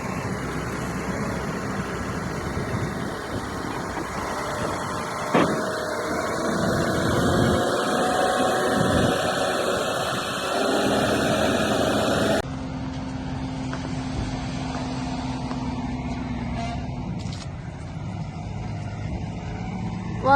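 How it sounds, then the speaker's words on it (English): Dump trailer arriving to tip a load, a steady, fairly loud engine drone rolling in outdoors with a few thumps, with no talking. "So here it comes, 3 PM dump trailer, has a load to be tipped."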